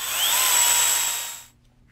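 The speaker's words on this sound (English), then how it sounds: "Again, we use your power drill." A power drill whirs loudly for about a second and a half, pitch steady as it drives a screw while assembling a chicken cage, then cuts off abruptly.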